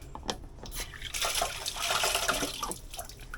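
A cut pepper rinsed under a running kitchen tap while making Jamaican-style curry chicken foot, giving a steady close splash and trickle of water with small drips, alone without talk.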